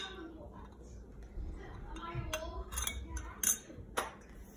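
Metal spoons clinking against a glass jar of olives as it is opened, several light scattered clinks and taps, the sharpest near the end, with a voice speaking quietly underneath.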